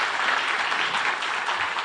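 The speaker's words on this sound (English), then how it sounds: "A great round of applause" An audience applauds with steady, dense clapping at an ICAI Iconic Day celebration event, heard at moderate loudness throughout.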